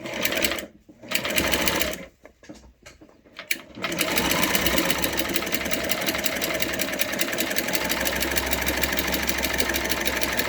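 A Sears Kenmore 6739 sewing machine stitches with its buttonhole attachment, starting and stopping in short bursts before settling into a fast, continuous mechanical whir.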